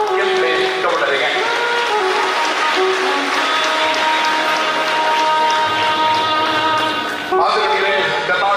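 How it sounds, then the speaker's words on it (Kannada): An audience claps at a Kempegowda Jayanti ceremony in a community hall in Puttur, and the applause runs continuously alongside amplified speech and tonal sound from the stage. "ದೊಡ್ಡ ಚಪ್ಪಾಳೆ ನಾಡಪ್ರಭು ಕೆಂಪೇಗೌಡರಿಗೆ."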